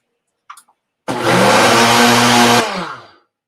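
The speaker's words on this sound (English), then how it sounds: "I'm going to give that a blend," A blender whirs loudly for about one and a half seconds to mix keto pancake batter, then winds down, after a couple of faint handling noises.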